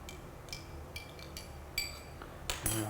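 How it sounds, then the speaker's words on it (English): A spoon clinks against a bowl while stirring salt into a tomato mixture, with a few light scattered taps and scrapes, quiet and close, ending in a brighter cluster of clinks. "Give that a little bit of a stir."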